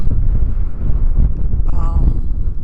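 Wind buffets the microphone with a constant low rumble, loud and close, with faint background sounds underneath, on sunny Mauna Kea in Hawaii during a gathering of a couple hundred people.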